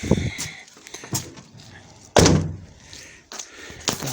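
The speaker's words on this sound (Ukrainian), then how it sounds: "Отже, зачиняємо двері." A Renault Master III 2.3 diesel van door shuts with a single solid thud, preceded by a few lighter clicks and handling noises, close by.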